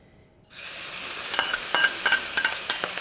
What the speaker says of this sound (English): The first thing I'm going to stir fry is actually the minced pork